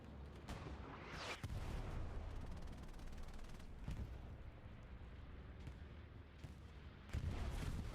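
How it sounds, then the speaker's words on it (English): Heavy bombing run explosions in the war game Hell Let Loose, a dense barrage of deep booming blasts rolling continuously, with sharper loud impacts punctuating it near the start and end. "Here comes the bombing run."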